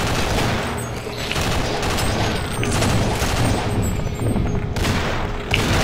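Weapon fire in the co-op shooter game Sven Co-op, a rapid, dense barrage of shots and booms that continues loudly throughout, with a sharper blast near the end.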